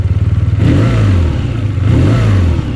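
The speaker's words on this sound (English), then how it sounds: "When I rev it again," A BMW R12 NineT motorcycle engine revved twice up close, each blip rising into a loud throaty roar and falling back to a lumpy, pulsing idle between.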